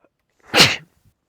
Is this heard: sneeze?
yes